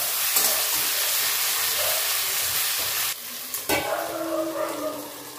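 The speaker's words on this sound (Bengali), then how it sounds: "সব মশলাটা একসাথে ভালো করে আস্তে আস্তে দেখে দেখে কষে নেব, যাতে জল দিতে না হয়।" Spice paste with tomato and green chilies frying in a pan for a small-fish chorchori, a steady close sizzle broken by scraping stirs and a few clinks as the paste is turned.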